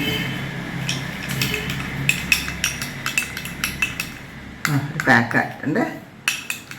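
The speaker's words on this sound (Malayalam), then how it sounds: "നമുക്ക് ഇതിനാവശ്യമായ റോസ് വാട്ടർ നമുക്ക് മിക്സ് ചെയ്യാം." A spoon stirs a homemade face pack mixed with rose water, giving a series of close, bright clinks and scrapes against the bowl in irregular bursts, with a voice speaking in the background.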